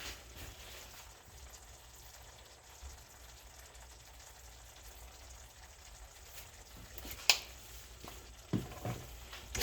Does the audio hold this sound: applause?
no